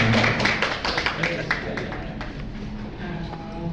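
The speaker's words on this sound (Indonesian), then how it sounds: "Oke, beri tepuk tangan dulu buat penanya." An audience at a business meetup gives a smattering of separate claps for a questioner, the sharp claps thinning out under ongoing talk.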